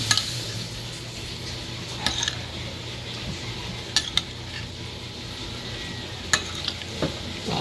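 Stuffing for stuffed milkfish (bangus) being stirred and mixed in a bowl, with steady scraping and a few sharp clinks of a utensil against the dish. Close and moderately loud, no talking.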